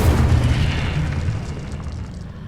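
The Incendio fire spell cast in the Hogwarts Legacy video game: a loud, dense whooshing blast with a heavy low rumble that slowly fades over a couple of seconds, heard alone without any voices.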